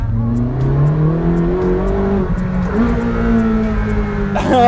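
Ferrari 458 Speciale V8 engine revving loud and close, a steady strong drone with rising and falling pitch and a sharp climb in revs at the end, with brief voices over it.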